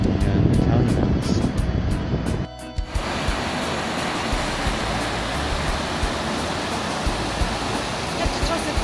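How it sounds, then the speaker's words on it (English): A waterfall in the Italian mountains roars as a steady, dense rush of falling water, loud and close, starting after a brief burst of wind and handling noise. "Just another average waterfall in the Italian mountains."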